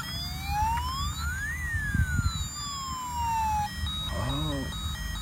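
A toy fire engine's electronic siren is switched on, sweeping up and down in tone with a warbling pattern near the end, close and clear over a faint background.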